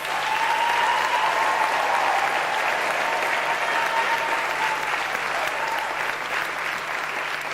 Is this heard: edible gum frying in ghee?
no